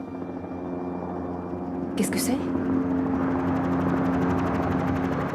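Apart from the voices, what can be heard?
helicopter flying away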